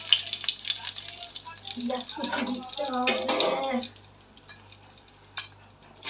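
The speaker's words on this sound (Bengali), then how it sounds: "তেলে দুটো তেজপাতা দিয়ে দিলাম" Bay leaves fry in mustard oil in a wok for chicken, giving a steady, close crackling sizzle with a brief stretch of louder spitting in the middle before it settles to a softer hiss.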